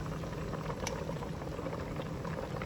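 Seven carrots and three eggs boiling in a pot of water, a steady dense bubbling and simmer, close and fairly loud, with no talking.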